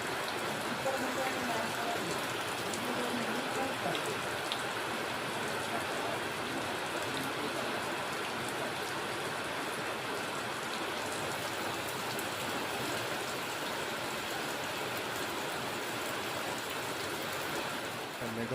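Heavy evening rain pours steadily, a dense, even hiss of drops on surfaces that holds unbroken throughout, with a voice speaking faintly under it.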